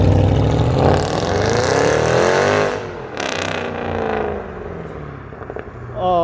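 White Mercedes-Benz C63 AMG with a 6.2-litre V8 pulls away. A loud engine note rises, then drops off as the car fades into the distance, leaving a quieter tail.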